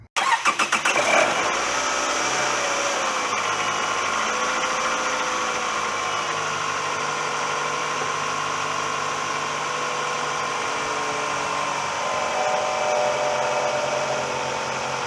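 A Toyota 2.4-liter 2AZ-FE four-cylinder engine cranks briefly and catches, then settles into a steady, even idle that runs on close and loud.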